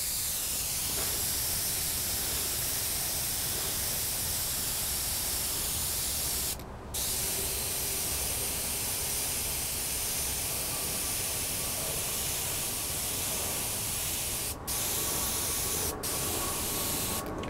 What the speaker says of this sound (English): we're using an Iwata airbrush, and the paint exactly as Luciano gave it to